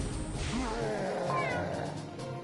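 Cartoonish cat meows from the video game Grimgrimoire, a couple of rising and wavering mews over a busy game soundscape with background music.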